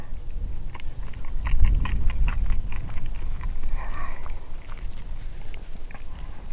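Close, steady chewing and crunching of crunchy pizza with a continuous low background rumble, no talking.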